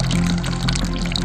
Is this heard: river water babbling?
yes